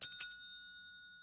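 A service bell in Hotel Business Simulator rings twice in quick succession, a bright metallic ding followed by a long, clear ringing decay that fades slowly to silence.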